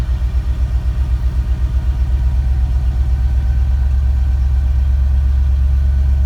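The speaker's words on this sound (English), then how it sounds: "That's just me lightly touching the gas pedal." A 1964 Mercury V8 with Holley Sniper EFI, cold-started as a hot rod, idling with a deep pulsing rumble and lifting slightly under light throttle, loud and close with no voices.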